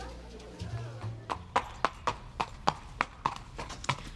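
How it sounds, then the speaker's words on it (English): Horse hooves clip-clop on a hard surface in a steady walking rhythm of about ten crisp, evenly spaced strikes, close and distinct, following a brief low rumble at the start. "It's a horse."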